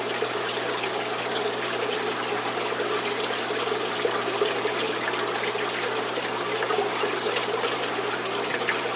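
Water flows steadily through an aquarium filter in a gourami tank after its clogged intake is cleared, a continuous close rushing trickle with a faint low hum underneath, unbroken by voices.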